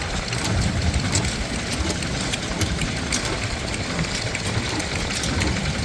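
A Blackstone side shaft stationary engine runs steadily at an outdoor show, giving a continuous low chugging drone with constant loudness throughout and no pauses.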